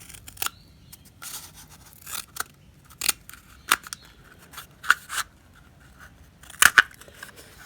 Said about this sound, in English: I've got a toilet roll and I'm going to cut that down the center.